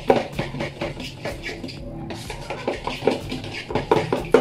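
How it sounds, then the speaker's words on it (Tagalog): Hotcake batter made with lumpy flour being mixed in a bowl: a steady run of close clinks, taps and scrapes of utensil against the bowl, with brief louder knocks. "Ang hirap pa naman i-mix yung ano, yung harina na buo-buo"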